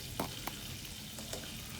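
Milkfish (bangus) tail frying in a pan for sinigang na bangus sa kamias, a steady close sizzle with a few sharper pops and spatters rising above the continuous crackle.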